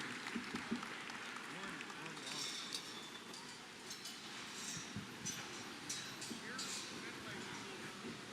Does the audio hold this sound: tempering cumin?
no